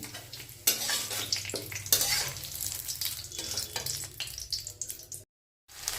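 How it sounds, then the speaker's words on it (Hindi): Onions fry with cumin seeds in a pan, a steady close sizzle broken by the scrape and clink of a spoon stirring, before a brief drop to silence near the end. "यहाँ पे थोड़ा सा जीरा में प्याज भी भून ले रहे हैं"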